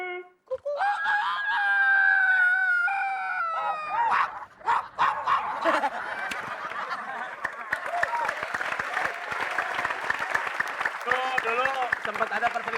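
A voice mimics a rooster's long crow, then imitates dog barks amid a noisy crowd with cheering and applause.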